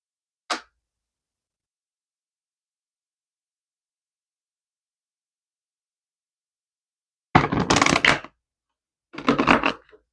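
Two short bursts of rapid papery riffling as a deck of tarot cards is shuffled, after a quiet stretch with one faint tick near the start.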